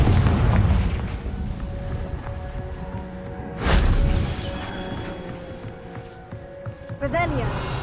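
Confringo explosion spell in Hogwarts Legacy: a sharp, loud blast in the middle of busy game sound, followed by a short rumble and lasting tonal effects, with a voice also heard.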